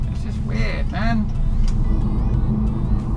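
A car driving past on a nearly empty city centre road, a steady engine and tyre rumble close by, heard under someone talking.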